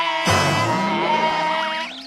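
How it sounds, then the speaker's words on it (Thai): A goat gives one loud, drawn-out, nasal bleat that wavers in pitch toward the end. It is heard close, with no talking over it. "แพะวิ่งหนีพวกเราอ่ะมันกลัวเราเปล่า"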